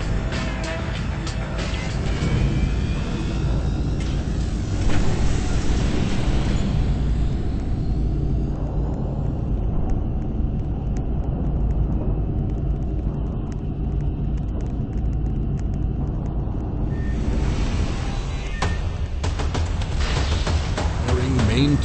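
Spaceship thrusters in a video game make a loud, continuous roaring rumble with whooshing texture, running steadily for about twenty seconds while a person talks over it.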